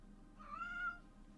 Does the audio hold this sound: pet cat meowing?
yes